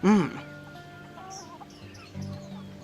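Chickens in the video game Egging On give a loud squawking cluck up close, then quieter clucks and faint bird calls follow over a low background.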